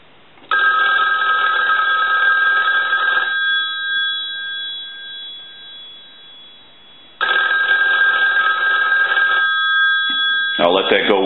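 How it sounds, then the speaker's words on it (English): An old Western Electric 223G three-slot payphone bell rings loudly in two long metallic bursts separated by a quiet pause, with a brief clatter at the end. "now what we can do is go ahead and ring the telephone"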